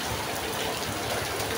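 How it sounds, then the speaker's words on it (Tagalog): Heavy rain pours steadily during a wet day of driving, a dense continuous hiss with a low rumble beneath, close and unbroken throughout. "Oh, lakas ang ulan oh."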